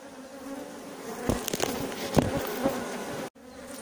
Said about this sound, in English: I'm going to get a couple of bees and I'm going to close this off.